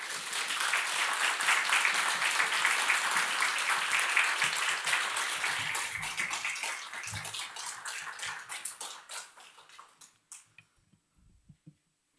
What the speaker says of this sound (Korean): 목사님 나오실 때 큰 박수로 맞아 주시기 부탁드립니다.